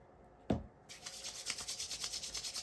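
Oil-coated palms rub together close up after a soft clap of contact, producing a rhythmic swishing friction that repeats evenly, quiet and alone.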